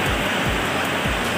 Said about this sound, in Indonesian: karena lagi hujan keras banget di Polo.